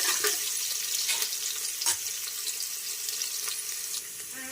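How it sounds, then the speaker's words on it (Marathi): Finely chopped ginger and garlic fry in hot oil for a baby's moong dal khichdi, with a steady, bright sizzle, a few crackling spikes and stirring scrapes, fairly close and uninterrupted by speech. "अद्रक लसूण असा बारीक चिरून घेतलेला आहे आपण तो घालूया छानपैकी आपल्याला फ्राय करून घ्यायचा आहे"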